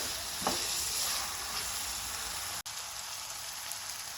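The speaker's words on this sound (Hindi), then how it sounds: "और फिर इसको 1 मिनट भूनूंगी।" Fish curry masala with tomato and onion frying in a pan, a steady close sizzle with faint crackles that runs unbroken, with one brief dropout partway through.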